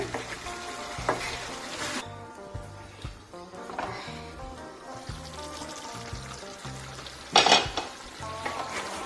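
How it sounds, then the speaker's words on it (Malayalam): Gravy bubbles and sizzles in a frying pan while a spoon stirs it, with intermittent scraping and clanks against the pan, including a louder knock near the end. "ഇതാ ഇളക്കി കൊടുക്കുന്നുണ്ട്"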